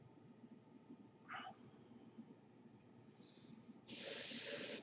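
An Iwata HP-SBS airbrush spraying paint gives short faint hissing bursts, then a louder sustained hiss near the end, over a quiet background.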